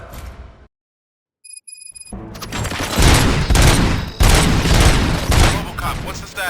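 Gunfire in the RoboCop: Rogue City video game, a loud sustained fusillade of dense shots and booms that breaks in after a brief silence and a faint electronic tone, with a voice speaking underneath.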